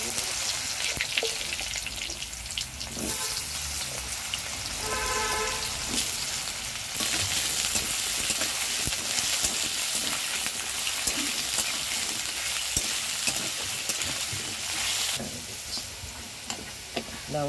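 Black cumin and dried chilies frying in hot oil give a loud, dense sizzle that crackles continuously, swelling and easing with occasional spoon stirs against the pan.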